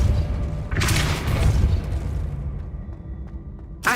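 The Depulso spell fires in Hogwarts Legacy with a loud, deep burst, a whooshing blast that swells, then fades into a low rumble. A sharp hit lands at the very end.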